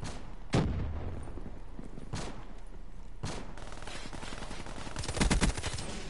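Explosive weapon blasts in Call of Duty Black Ops III, including an RPG launch, come as several sharp booms spaced a second or more apart over a constant rumbling battle bed, with a cluster of rapid bursts near the end.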